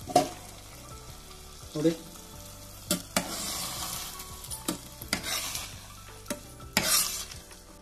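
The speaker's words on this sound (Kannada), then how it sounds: "ಈಗ ಇದಕ್ಕೆ ದ್ರಾಕ್ಷಿ ಗೋಡಂಬಿನ ಹುರಿದಿರೋದನ್ನ ಹಾಕೊಳ್ತೀನಿ. ನೋಡಿ ಈ ರೀತಿ ಫ್ರೈ" Raisins and cashews being stirred and fried for sweet pongal, a soft sizzle with occasional spoon scrapes and pan knocks, fairly quiet, with a brief spoken word.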